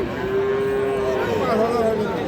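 Bull calf at a rural cattle market gives a long, steady moo lasting about two seconds, loud and close, then trails into a lower wavering call over constant crowd and market hubbub.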